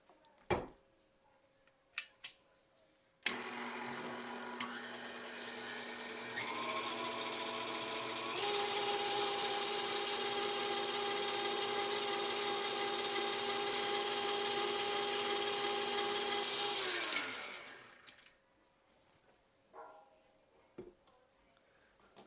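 An electric stand mixer whirs steadily for about fourteen seconds while beating a small batch of crusting buttercream icing to stiff peaks, its pitch shifting as the speed changes, then winds down, with a few clicks and knocks before and after.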